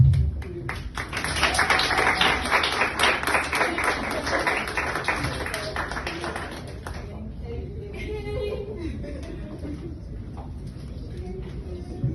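Audience applause for a speaker at a sold-out Writers to Authors book event, a dense burst of clapping for the first several seconds that thins and fades, with a voice speaking over it.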